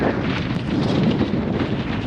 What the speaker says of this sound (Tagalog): Binabayo na kami ng hangin.